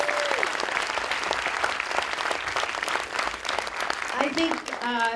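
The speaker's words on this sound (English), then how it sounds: "Can we have another round of applause for all the nursery students?" An audience applauds nursery students at a school music concert, dense steady clapping filling the hall, with a few voices and a brief tonal sound near the end.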